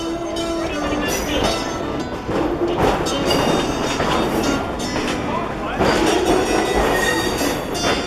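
An old NS MP15DC diesel switcher locomotive at a rail yard near the shops, a steady, loud rumble with rolling train noise and occasional squeal throughout, voices talking over it.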